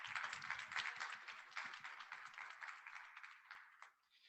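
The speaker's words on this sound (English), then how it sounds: "Can we get one more round of applause?" Audience applause for a university team at a case competition, faint scattered clapping from a small crowd that thins out and fades over a few seconds.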